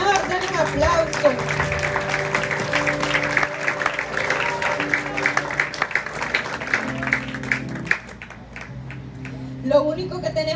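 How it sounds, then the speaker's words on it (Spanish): A church congregation applauds during a worship service, a broad wash of clapping with music playing under it, the applause thinning out toward the end. "Gloria al Señor, denle un aplauso."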